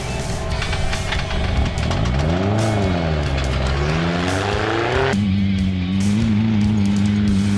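A small self-built 1600 racing buggy slides sideways through an off-road race, its engine loud and close, revving up and down in wavering sweeps before settling into a steady high drone, with tyres scrabbling on the dirt.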